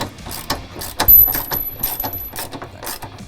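A ratchet on a 15mm extension tightens the corner bolts of a replacement fuel tank on a Ford Powerstroke cab chassis truck, giving close, uneven bursts of rapid metallic clicking.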